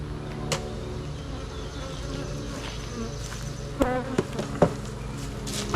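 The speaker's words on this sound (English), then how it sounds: "I've never seen bees this angry in my life." A dense, droning buzz of many honey bees swarming close by, steady throughout, with a few louder buzzes passing near.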